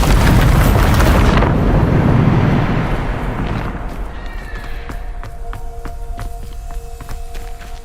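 Bombarda blasting spell going off in Hogwarts Legacy, a loud roaring burst that rumbles and fades into crackling debris and quieter game ambience.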